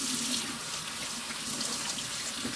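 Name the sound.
washing hands under a running water tap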